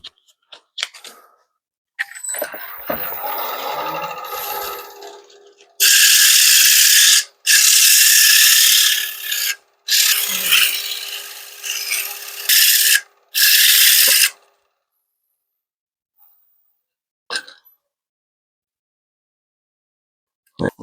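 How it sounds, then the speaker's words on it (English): Abrasive paper sands the inside of a wooden bowl spinning on a lathe, a loud, harsh rasping hiss in long bursts with brief gaps, then fading to scattered faint clicks and quiet. "Get the inside sanded and finished."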